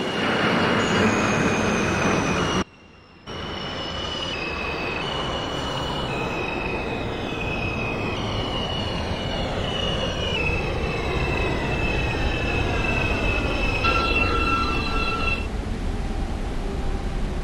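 An R160 subway train running in the OpenBVE simulator, Forest Hills-bound R local in Queens: loud continuous wheel rumble with squealing tones and rising and falling motor whine, a brief dropout early on.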